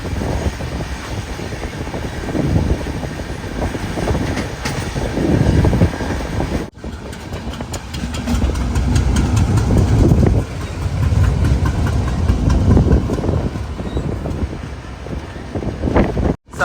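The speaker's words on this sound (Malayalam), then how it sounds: "ഗൂത്തി ജംഗ്ഷൻ റെയിൽവേ സ്റ്റേഷനിലേക്ക് ഇതാ നമ്മുടെ ട്രെയിൻ എത്തിക്കൊണ്ടിരിക്കുകയാണ്" The Mangaluru–Kacheguda express arrives at Gooty Junction, heard as a continuous loud rumble and rattle of the moving carriages with heavy wind buffeting from onboard, steady throughout with a brief break.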